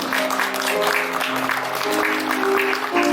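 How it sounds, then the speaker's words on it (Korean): Guests at a Korean wedding ceremony clap warmly for the bride and groom, steady applause with background music tones sustained underneath throughout. "자, 여러분 따뜻한 박수 부탁드립니다."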